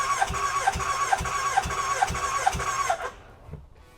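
Hayabusa-swapped Can-Am engine cranking over on the starter during a compression test, with a steady rhythmic chug of about six compression strokes and a whine, close and fairly loud, then cutting off abruptly.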